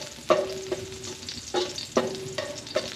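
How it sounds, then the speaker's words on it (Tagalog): Garlic sautés in a pan for lumpiang sariwa, a soft, faint sizzle with a spatula scraping and clinking against the pan in several distinct strokes, no voices. "umpisahan na po natin ang pagigisa po natin para sa ating lumpiang sariwa. So, unahin muna natin ang ating bawang"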